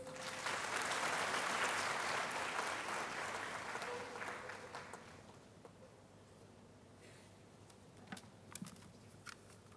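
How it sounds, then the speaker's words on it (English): Audience applause at a university graduation congregation, loud massed clapping from a large crowd that gradually fades and thins out into a few scattered claps and ticks. "Applause, please."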